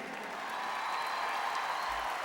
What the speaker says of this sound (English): How about a big round of applause for Vickie?